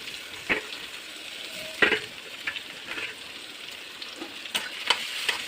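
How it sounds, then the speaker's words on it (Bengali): Dry chillies, black cumin and garlic paste sizzle in hot oil in a pan, with a steady soft frying hiss and several sharp scraping clicks as the mix is stirred at irregular intervals. "একটু কালো জিরে, একটু রসুন পেস্ট দিলাম, দিয়ে এটাকে নাড়িয়ে নিলাম"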